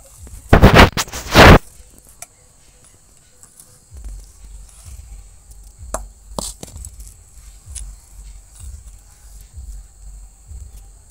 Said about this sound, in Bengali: আমি এইভাবে সমস্ত চাল বেটে নেব।